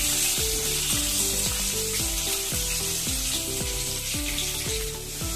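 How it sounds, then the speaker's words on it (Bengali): Potatoes sizzle steadily in hot oil in a pan, a continuous frying hiss running beneath a louder, rhythmic background music track. "এই তেলের মধ্যেই আলুগুলো ভেজে নেব"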